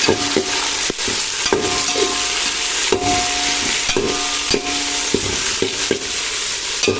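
Sliced onions and tomatoes fry in oil in a large pot for chicken biryani, with a dense, loud sizzle and repeated sharp scraping and knocking strokes of a spoon against the pan at an uneven rhythm.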